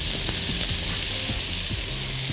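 Onions and mushrooms sizzle steadily in a frying pan where protein was just cooked, a constant close hiss with occasional soft stirring knocks and no talking.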